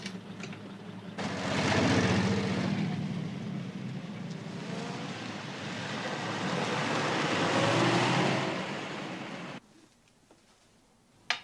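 An engine starts up after a second and a car drives off, loud and steady with a second swell, then stops sharply near nine and a half seconds into near quiet.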